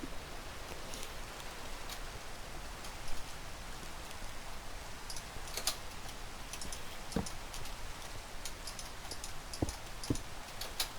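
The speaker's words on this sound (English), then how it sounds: "We'll let the rain come in." Rain falls in the Minecraft video game as a steady soft hiss with scattered light ticks and drip clicks, fairly faint and continuous, with no talking.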